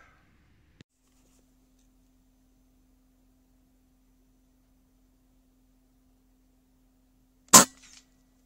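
An airgun fires a javelin slug while hunting doves. One sharp, loud crack comes near the end of an otherwise near-silent stretch, with a faint tick earlier and a low steady hum.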